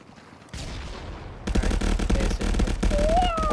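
Gunfire rings out in the VR shooter Contractors, a quiet start giving way at about half a second to dense rapid bursts of shots, loud and close, with a faint voice underneath.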